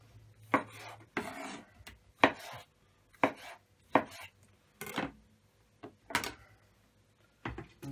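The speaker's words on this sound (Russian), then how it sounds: "Таким средним кубиком нарежем все." A knife chops through vegetables into medium cubes on a cutting board in irregular sharp strokes, with short quiet gaps between the cuts.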